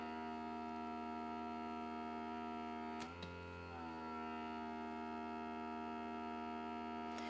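A microdermabrasion machine with suction runs as a steady, quiet electric hum with faint tonal whine throughout, briefly dipping and shifting pitch around the middle as the suction changes.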